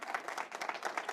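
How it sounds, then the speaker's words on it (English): Audience applause at a board of education meeting, a short burst of steady hand clapping from a room of people, moderately loud and continuous with no talk over it. "Would you please give him a round of applause?"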